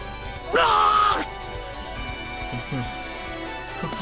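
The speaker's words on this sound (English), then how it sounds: "A scream tore through the night." A single loud, drawn-out scream in a visual novel game, The Devil on the G-String, rises sharply and cuts off, followed by quieter murmuring and faint background noise.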